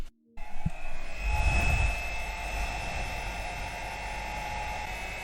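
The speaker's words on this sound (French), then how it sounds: "Ce sont des ultrasons. C'est une machine à laver le bijou" An ultrasonic jewelry cleaning machine in a jewelry workshop switches on with a click and settles into a steady electrical hum with a high whine, droning evenly and close by, no voices.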